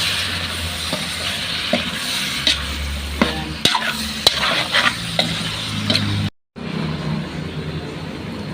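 A spoon stirs pakbet, a Filipino vegetable stew with squash and bagoong, as it sizzles and fries in a pan in a carinderia kitchen, a steady loud scraping and frying sound with a brief silent gap near the end.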